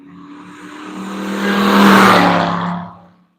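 A race car passes on the track at Nelson Ledges, its engine swelling from a distant drone to a loud roar and then fading quickly into silence.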